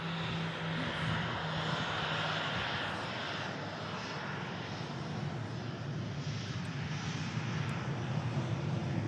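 Airplane engine droning steadily while the aircraft holds on a runway waiting to take off, a continuous broad rumble heard from a distance with no talking.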